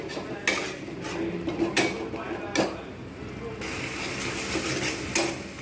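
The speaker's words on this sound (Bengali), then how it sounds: "এবার আমি এতে দিয়ে দেবো ফ্যাটানো টক দইটা ব্যাস এবারে এটা ভালো করে আমি কষে নেবো" Egg kalia masala with whipped sour yogurt being sautéed in a pan: a spoon scrapes and clanks rhythmically against the metal over a faint, steady sizzle, close and moderately loud.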